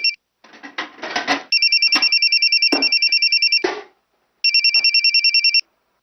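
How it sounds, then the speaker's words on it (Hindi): An electronic phone ringtone trills in two long bursts of rapid pulses, with brief clattering noises before and between them. "कल्पू फोन।"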